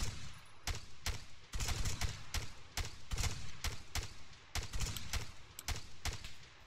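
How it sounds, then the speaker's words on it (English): Gunfire in the military shooter Arma 3, in Wasteland mode: sharp, loud shots crack out in irregular bursts and single reports over a low background rumble. "There's one still shooting at us."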